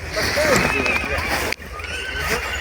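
A mare whinnies amid steady outdoor noise on a snowy day, with a brief sharp knock partway through and voices murmuring underneath.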